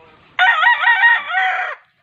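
A loud rooster crows once, a single drawn-out cock-a-doodle-doo rising and holding, close by, with faint clucking beforehand.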